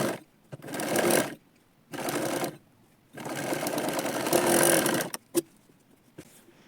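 An electric sewing machine stitches a katori blouse in bursts. Several close, loud runs of rapid needle whirring are each a second or two long, separated by short pauses and soft clicks, with a longer run near the end.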